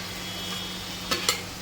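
Coarsely ground green chili paste goes into onions frying in hot oil for a moong bean chutney: a steady close sizzle with two quick scraping stirs of a spoon near the end, no talking.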